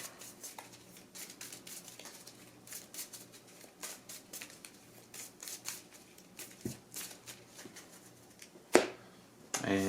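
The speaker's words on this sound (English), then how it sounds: "I'll shuffle this up." Rapid riffling and flicking of Marvel Champions playing cards being shuffled, a dense patter of crisp clicks at close range with a few sharper snaps near the end.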